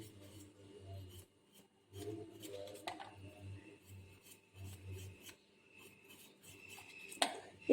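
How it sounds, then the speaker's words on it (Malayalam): A knife scrapes and peels potatoes in a home kitchen, with short rasping strokes in uneven bursts, close and quiet, and a sharper clatter near the end. "ഇപ്പോഴത്തെ ഉരുളക്കിഴങ്ങൊക്കെ ചുരണ്ടി കഴിഞ്ഞാൽ തോലൊന്നും പെട്ടെന്ന് പോകത്തില്ല"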